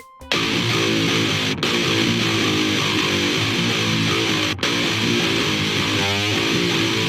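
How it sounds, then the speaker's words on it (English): Thick, loud wall of two layered distorted electric guitars playing sustained chords together, with two brief cutoffs, dense and close with no voices. "Let's hear what two guitars sound like."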